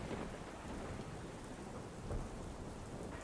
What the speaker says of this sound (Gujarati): વહેલી સવારથી જ સુરતમાં ધોધમાર વરસાદ પડી રહ્યો છે